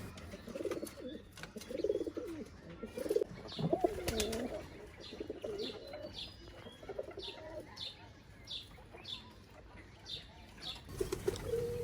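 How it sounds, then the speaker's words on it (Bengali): Pigeons and their chicks coo softly at a farm, with low repeated coos, chirps and bursts of wing flapping nearby. "আমাদের এই বাসার কবুতরের বাচ্চা 2টা দেখেন"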